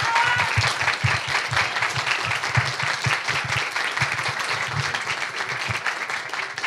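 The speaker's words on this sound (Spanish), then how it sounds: "Me encanta este aplauso porque esto sí que no es tan común" Audience applause fills a book day event, steady dense clapping throughout with some low thumps underneath, loud and close.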